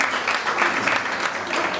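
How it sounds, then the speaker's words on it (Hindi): Dense applause from an audience at an anniversary awards ceremony, steady clapping that stays loud throughout. "जोरदार तालियां इनके लिए"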